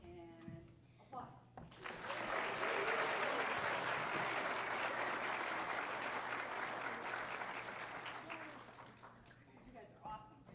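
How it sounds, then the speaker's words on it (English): An audience at an elementary school winter orchestra concert breaks into sustained applause lasting about seven seconds, with brief speech just before and after. "Get your cameras ready too. And applaud."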